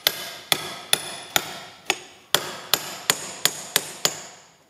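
An impact socket is tapped with a hammer to seat a pump seal in a CAV diesel injection pump, giving about eleven sharp metallic knocks at a steady, slightly quickening pace, close and clear with no talk.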